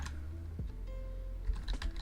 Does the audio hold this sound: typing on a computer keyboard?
yes